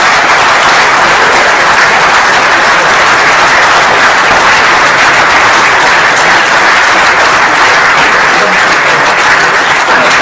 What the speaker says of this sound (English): Well, from your rich applause